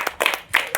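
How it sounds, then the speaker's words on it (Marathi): Students at a Marathi primary school give a brief burst of four or five quick claps, close and crisp. "टाळ्या वाजवत जाणार."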